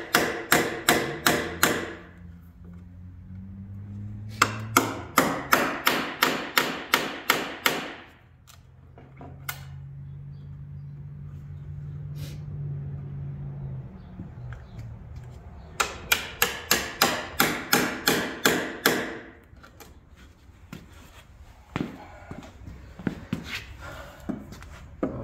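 Cutting a relief notch in the last trailer deck board to clear a wire, with bursts of rapid, sharp, evenly spaced clicks and taps close by, separated by quieter stretches carrying a steady low hum.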